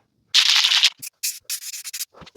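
Sanding a guitar body during refinishing: a long steady abrasive rub, then a run of shorter strokes with brief gaps between them, close and fairly loud, no voices.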